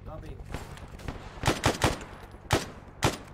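Gunfire from a FAL rifle in the video game Arma during a jungle mission against Viet Cong: sharp close shots fired singly and in quick pairs, loud over a low background.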